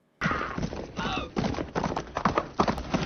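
A horse's hooves clip-clop on a western town street as a rider pulls up outside a saloon: a close, uneven run of hollow thuds lasting the whole moment.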